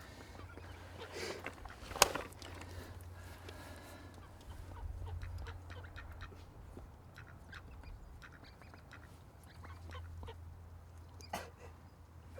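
A duck that stole carp fishing boilies quacks and calls beside the water, with an occasional sharp sound and low background rumble, moderately close.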